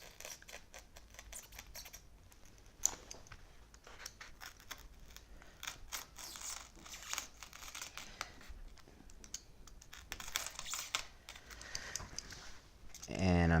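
Knife cutting a step-down recess for a cover, steady scratchy slicing and scraping strokes close up, with brief crisp cuts and some handling noise throughout.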